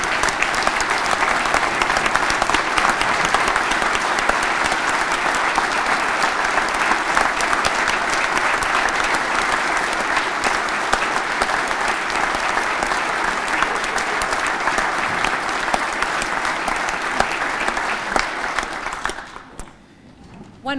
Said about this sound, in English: And would you all please join me in giving Alyssa a round of applause?